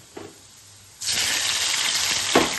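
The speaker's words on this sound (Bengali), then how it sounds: "পেঁয়াজ আর টমেটোটা আমি একসঙ্গে ভেজে নেব।" Onion and tomato frying in oil for a village-style bhola fish curry, a steady loud sizzle that bursts in after a quiet start and runs continuously to the end, with no talk.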